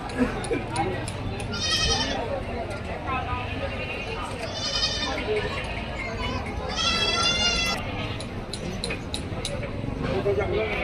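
Several goats bleat loudly in bursts over a busy crowd of voices at a village goat market, with animals and people close by.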